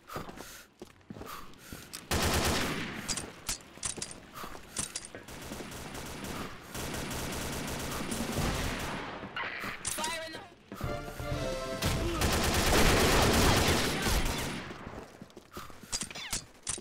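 Rapid gunfire from an M416 rifle with the Black Dragon skin in a team-based shooter, bursts of automatic shots starting after a quiet lead-in and continuing loud and dense, with other weapons and effects mixed around them.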